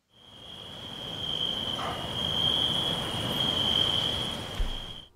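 Crickets chirp in a steady, continuous high-pitched trill over faint background hiss, with no voices present.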